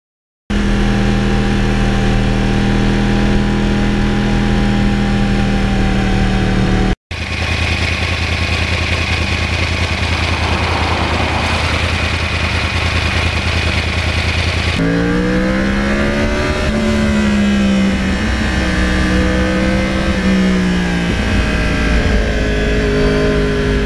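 A 2009 Yamaha R1 crossplane motorcycle engine roars loud and close while being ridden, holding a steady drone, then shifting pitch with throttle changes in the later part, with no talk.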